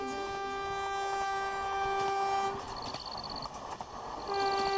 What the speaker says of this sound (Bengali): হুইসেল দিয়ে একটা মালগাড়ি আবারও রেল লাইন দিয়ে এগিয়ে চলেছে